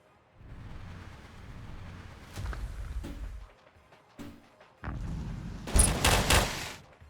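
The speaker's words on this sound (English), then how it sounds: "the machine guns do actually do solid damage to larger targets" Machine guns firing in the bug-smashing game Death Ring Second Impact, bursts of rapid gunfire and rumbling impacts coming in uneven waves, loudest in a dense crackling stretch near the end.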